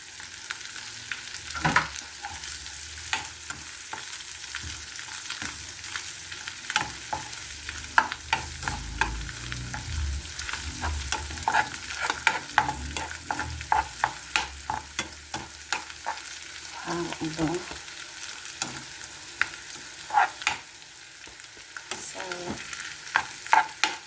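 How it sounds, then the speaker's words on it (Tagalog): Butter and garlic fry in a pan for creamy pork with mushroom, a steady close sizzle broken by frequent sharp clicks and scrapes of a utensil stirring, with no talking. "At ilagay ko yung butter. At ang ating bawang."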